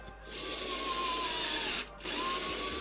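A Bosch GO3 cordless electric screwdriver whirs steadily as it drives a 2.7 screw into wood, running close for about a second and a half, pausing briefly, then starting up again.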